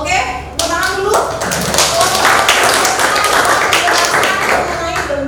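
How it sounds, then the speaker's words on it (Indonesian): A class of students claps hands together on cue, a loud close burst of many overlapping claps that starts after a brief voice and continues fairly evenly to the end. "Oke, tepuk tangan dulu."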